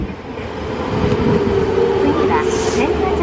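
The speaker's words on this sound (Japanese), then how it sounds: "The train now arrives is the local train down from 和歌山市。" A Nankai 1000 series local train rolls into a station with a steady low rumble that builds and holds. A station announcement plays over it.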